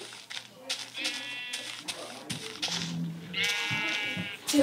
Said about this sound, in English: Wow, the sheep, sir.